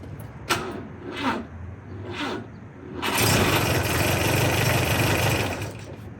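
A car engine turning over and then catching after a jump from a LokiThor J401X battery jump starter: a few uneven cranking pulses, then a steady, loud running roar that carries on to the end, close by with no talk.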